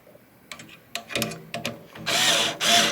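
A power drill bores into a screen printing frame in short stop-start bursts, then two louder, longer whirring runs close by.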